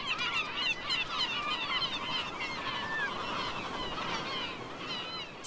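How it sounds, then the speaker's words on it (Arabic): Kelp gulls call at their breeding colony, a dense chorus of overlapping honking and yelping cries, fairly near and continuous over a low background wash. "ببطء ممتلئ يطير نورس عشب البحر عائداً إلى مستعمرته الخاصة"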